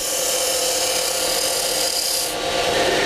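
A scraper is drawn lightly across a wooden cove turning on a lathe, giving a steady, continuous rasping rub over the motor's hum, close and fairly loud, with no voices.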